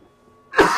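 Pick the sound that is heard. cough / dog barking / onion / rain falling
cough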